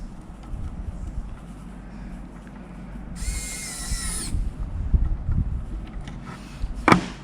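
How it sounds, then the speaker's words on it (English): An electric screwdriver whirs in a steady burst partway through, driving screws back into a Nacon Revolution Unlimited Pro game controller, with faint clicks and handling noise around it and no talk. "So when we're screwing the screws in, just remember not to accidentally pinch any wires."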